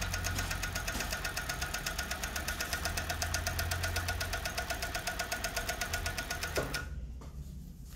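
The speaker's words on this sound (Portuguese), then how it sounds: "Estica bem o elástico e costura." A sewing machine stitches elastic onto children's pants, running with a fast, steady mechanical chatter close by for nearly seven seconds before stopping abruptly.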